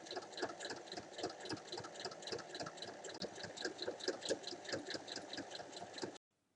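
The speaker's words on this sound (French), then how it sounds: "pour refermer l'ouverture, je vais faire une surpiqûre tout autour" A sewing machine runs steadily, topstitching all around the edge of fabric makeup-remover wipes with a fast, even needle rhythm, then stops abruptly near the end.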